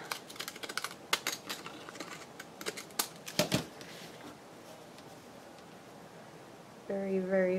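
Deckle-edge scissors trimming paper give a scattered run of crisp, close snips and clicks at an uneven pace, then quieter rustling, with a voice rising briefly at the very end.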